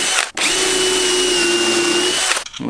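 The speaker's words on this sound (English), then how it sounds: "I'm actually going to use a countersink bit" A power drill fitted with a countersink bit whines loudly and steadily at close range for about two seconds while a screw hole for a budget monopod pole is countersunk, with brief quiet gaps before and after.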